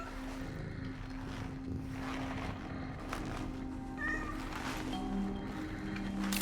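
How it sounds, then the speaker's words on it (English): A cat meows in the video game Cronos: The New Dawn, with a few short, close meows over a constant low droning hum in the game's background. "Don't you meow on me."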